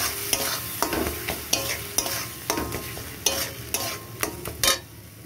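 Yogurt is stir-fried with spices in a pan, giving a steady sizzle broken by a regular series of sharp scraping strokes from a spoon against the pan.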